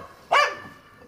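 A dog gives a single short, sharp bark nearby, heard over a faint background hiss in a garage during diesel filter work on a Renault Megane II 1.5 dCi.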